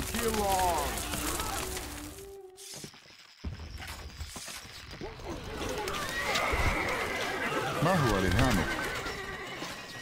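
Horses neighing and whinnying in the Stronghold Crusader strategy game, several loud whinnies near the start and a louder burst later, with hoof clip-clops and a shattering crash, and someone talking over them.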